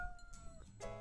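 Cat meowing in the video game Pet Clinic, a short drawn-out meow with a second cry near the end, fairly faint against game background sounds.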